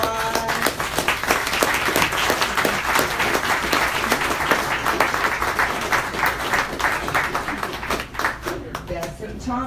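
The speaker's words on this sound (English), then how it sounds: "would all the finalists please come up real quick, and let's a round of applause" A room full of people applauds book award finalists at a reading event, dense sustained clapping that runs steadily throughout and thins toward the end, with some voices under it.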